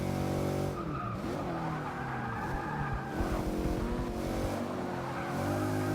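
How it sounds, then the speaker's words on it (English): Race car tires squeal and slide in Forza Motorsport 6, a loud continuous skid over a steady roaring engine that shifts pitch through the corners. "This car does like to slide."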